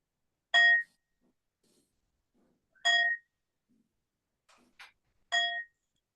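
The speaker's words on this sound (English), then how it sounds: "The sound of the bell calls me back to my true self" A meditation bell rings in three clear, bright, resonant strikes spaced a few seconds apart, each decaying quickly, plus one fainter metallic ping between the last two, in near silence.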